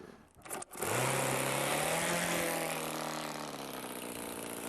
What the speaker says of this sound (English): this engine starts quite easily, very smooth running